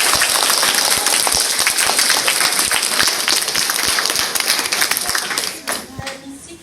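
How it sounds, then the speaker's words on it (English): An audience at a school speech final applauds the third-place winner, a dense, sustained round of clapping that fades out near the end as a voice begins to speak. "we'll give them a big round of applause"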